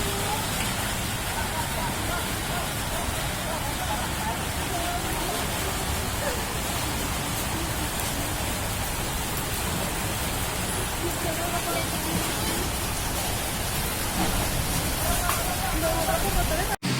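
Heavy rain and hail pounding down during a whirlwind storm in Depok, Indonesia, a loud, unbroken roar of dense hiss and rattle lasting throughout, with faint voices buried beneath.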